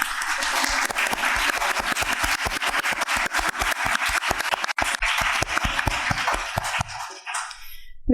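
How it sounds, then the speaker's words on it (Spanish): Audience at a literature conference applauds, a crisp, dense burst of many hands clapping that holds steady for about seven seconds before cutting off sharply into near silence. "a quienes desde ya les pido un fuerte aplauso"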